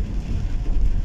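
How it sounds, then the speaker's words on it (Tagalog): Rain falls steadily in Jaro, Iloilo City, a dense, continuous hiss and rumble with no voices. "Ang ulan."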